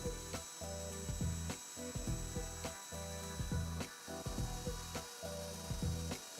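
X-Carve CNC router milling button pockets into a face plate, a quiet rhythmic grinding and ticking with repeated sharp clicks as the bit steps through its passes.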